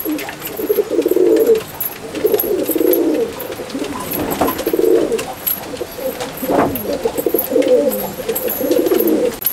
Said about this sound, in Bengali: এবারে পায়রা দুটো আপনাদেরকে ছেড়ে দেখাচ্ছি